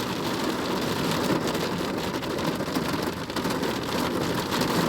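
Heavy rain pours down steadily and loudly throughout, a dense continuous patter with faint low rumbling beneath and no speech.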